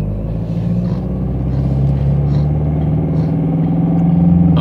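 A car engine rumbles steadily close by as the vehicle pulls away, a low continuous drone that builds slightly toward the end without any talking over it.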